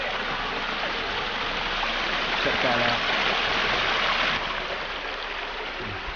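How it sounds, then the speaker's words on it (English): Water spills over a waterfall stone into a recreational filtration pond, making a steady, full rushing wash close by, while someone speaks briefly over it. "Here's our filtration pond and the waterfall there."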